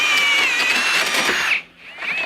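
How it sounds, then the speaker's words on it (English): A power drill whines loudly and steadily as it drills out the bottom bolt holes of car suspension struts, then cuts off abruptly and briefly spins up again. "drill out the bottom bolt holes in those struts."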